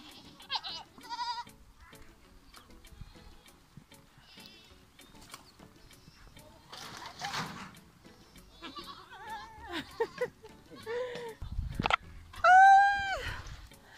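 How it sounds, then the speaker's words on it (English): Goats in an African village bleat repeatedly during feeding time, several separate calls at close range, growing louder and more drawn out toward the end, over quiet rustling and scattered clicks. "we are busy feeding the goats there"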